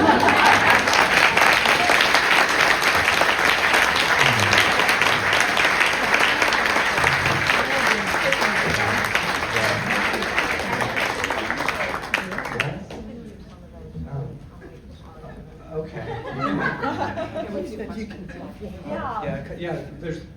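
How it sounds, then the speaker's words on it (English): Sustained applause from a luncheon audience after an author's talk, dense steady clapping for about twelve seconds before thinning into scattered claps and murmuring voices. "This is the part where you applaud."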